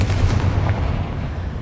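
A Confringo spell blast in Hogwarts Legacy lands as a loud, dense booming burst that rumbles on for a moment before easing off, with no voices.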